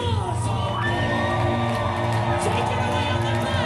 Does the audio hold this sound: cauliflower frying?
no